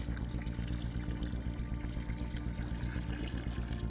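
A steady stream of water, diluting sugar for garden soil, pours continuously, close and fairly loud, with no talking.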